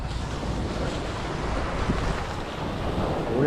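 Strong wind buffeting the microphone over rushing sea noise beside a small outrigger boat, a constant loud roar with slight gusts.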